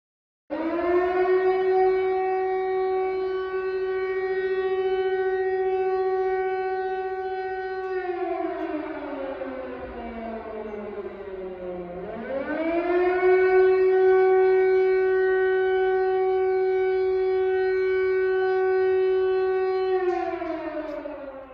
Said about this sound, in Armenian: սիգնալիզացիա ձայն, որ իրոք սարսափելի է